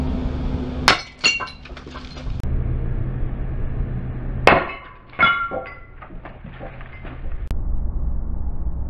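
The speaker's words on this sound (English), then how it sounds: "It's almost like it's a bad idea to send glass shards shooting everywhere." Glass shatters under hammer blows at a forge, with two loud bursts of breaking and tinkling shards about three seconds apart, each followed by scattered clinks over a low steady rumble.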